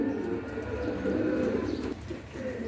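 Pigeons coo close by, their low, throaty, rolling calls overlapping in a continuous murmur with a brief dip partway through.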